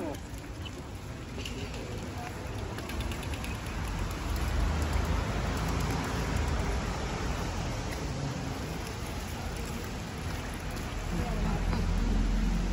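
Steady rain patters across the whole recording in Italy, a dense, even hiss with soft low rumbles, while people talk quietly underneath.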